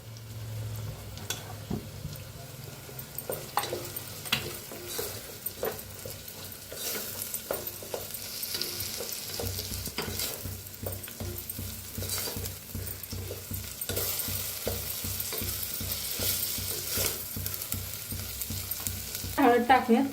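Onion, tomato and leftover masala fry in a pan for a potato dish, a dense continuous sizzle broken by frequent rhythmic scraping and clinking of a spoon stirring, close and fairly loud, with no talking.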